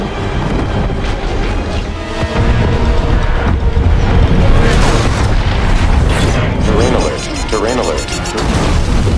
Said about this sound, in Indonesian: Sebagian besar kapsul penyelamat meledak ketika memasuki atmosfer.